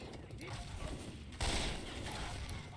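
Three-round burst gunfire in Left 4 Dead 2, sharp clustered shots amid game noise, with one louder blast partway through and voices mixed in.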